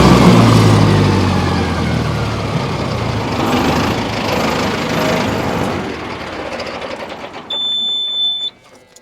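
A Mahindra Novo 605 PS 4x4 tractor engine, nearly new but weak on power, runs loud and harsh near at hand. Its roar eases and thins as the clutch goes down and the revs fall, ending in a brief high whine before cutting off.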